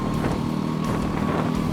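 A racing go-kart engine drones continuously under load during a karting race, a buzzing, steady motor tone with some wind and track noise, close and unbroken.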